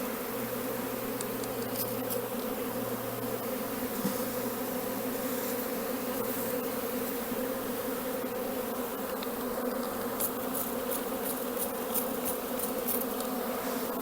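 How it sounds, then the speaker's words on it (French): Honeybees swarming around a small nucleus hive box make a dense, steady buzzing drone that stays loud and unbroken throughout, with no voices. "il y a plein d'abeilles là par terre"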